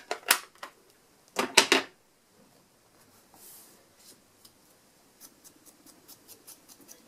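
Paper snipped with scissors for punch art snowmen: a few crisp close cuts at the start, then a run of fainter, evenly spaced little snips and clicks in a quiet room, with no talk.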